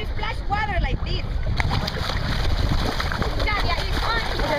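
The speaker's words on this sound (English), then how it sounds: "everybody splash water like this" Water splashes and sloshes continuously nearby as several hands slap the surface, with voices talking and calling out over it.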